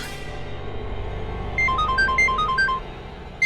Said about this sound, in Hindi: बुल्टो को फोन लगा था।